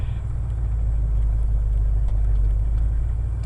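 A 1980 Ford F100 pickup with an automatic transmission idles steadily just after a cold start, a low, even rumble heard close up for a few seconds with no voices.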